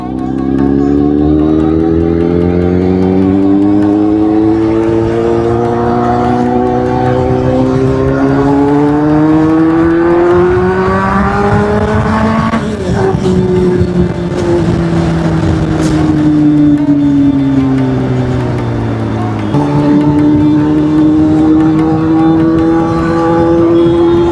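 A motorbike engine revved hard in front of police, a loud, sustained roar that climbs in pitch in long sweeps, drops sharply, then climbs again, close to the listener.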